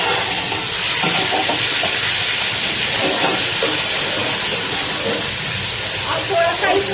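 Garlic paste and ground green chilli frying in a pot for biryani, giving a loud, dense, steady hiss and sizzle up close, with faint stirring scrapes and bits of voice underneath.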